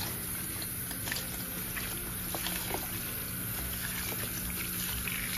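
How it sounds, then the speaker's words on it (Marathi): Fenugreek leaves being washed in water, a soft continuous swishing and splashing with scattered small drips and sloshes, close but fairly quiet over a steady background hum. "हे अशी स्वच्छ धुवून घ्यायची पाण्याने भाजी"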